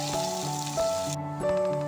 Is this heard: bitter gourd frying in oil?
yes